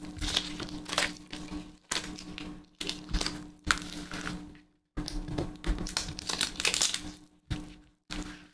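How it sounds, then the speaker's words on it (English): Lifting tape is pressed down onto printed words for a Victorian doll's head craft, giving repeated short crinkling, rubbing bursts separated by brief pauses, close and fairly soft. "So I'm just pressing the lifting tape onto the words."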